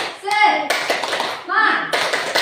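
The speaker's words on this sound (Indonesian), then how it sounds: "kita bertepuk tangan dulu. Dengan tepuk semangat saja" A group, apparently of adults with children, claps a spirited "tepuk semangat" cheer in short bursts mixed with loud chanted voices in a room, the claps sharp and close.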